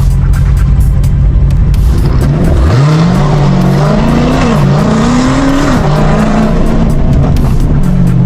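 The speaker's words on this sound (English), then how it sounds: "And look at him revving" A loud Chevrolet Camaro engine revs up and holds high, rising and falling in pitch, with tire squeal and crowd noise around it at a street race.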